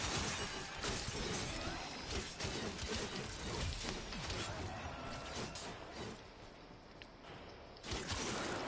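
Glass shatters repeatedly in the Warframe video game, a dense run of crashing, tinkling breakage with mechanical clatter, loud and continuous throughout.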